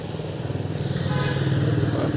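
A motor vehicle engine runs close by with a rapid, throbbing putter that grows slightly louder over a couple of seconds, alone without talk.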